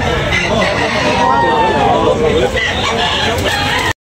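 A rooster crows amid a noisy crowd of chatter and clucking at a chicken market in Tabunok, Talisay, the call rising over constant background babble before cutting off abruptly.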